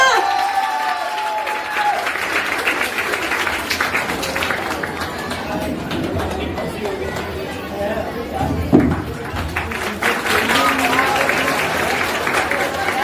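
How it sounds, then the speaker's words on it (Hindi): Loud crowd applause at a school foundation day event, with sustained clapping from many people mixed with chatter, cheering and some movement, while voices talk throughout. "जोरदार तालियां"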